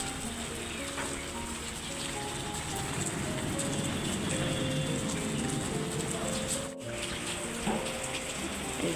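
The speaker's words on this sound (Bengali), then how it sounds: "এই যে আবারও আবারও নামতেছে বৃষ্টি আবার বাড়তেছে" Rain keeps falling after a morning storm in Bangladesh, a steady dense patter throughout with no speech over it.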